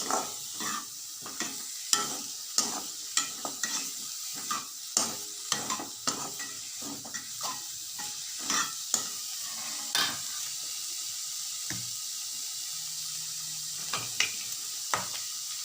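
Cauliflower fries in hot oil while a utensil stirs it against the pan, a steady sizzle broken by frequent sharp scraping and clinking strokes, close by and without talk.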